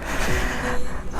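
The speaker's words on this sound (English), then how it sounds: "I'm sorry for the breathing noise." Heavy, breathless panting from someone winded before a ride on a Royal Enfield Himalayan BS6, close to the microphone, with quick gasping inhales and sighing exhales and no talk.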